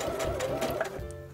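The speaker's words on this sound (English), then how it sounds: "I'm going to do a tack stitch there and then continue sewing." A Passport 3.0 sewing machine with a walking foot stitches a tack stitch through layered pillow fabric, giving a steady, close mechanical whirr with a rapid needle rhythm throughout.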